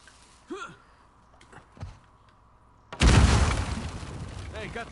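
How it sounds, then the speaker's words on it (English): A dynamite blast in Uncharted 4 bursts out suddenly partway through, a loud booming roar that decays slowly, with a voice speaking briefly before and after it. "Hopefully we just blend in with the other explosions."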